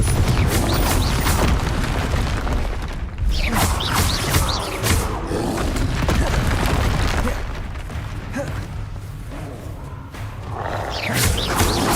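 Confringo spell explosions in the video game Hogwarts Legacy, with loud, repeated booms and crashing bursts in rapid succession over heavy combat noise.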